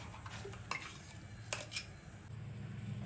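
Chutney gets scraped out of a grinder jar into a bowl, giving a few faint spoon-on-steel clinks and scrapes over a quiet kitchen hum.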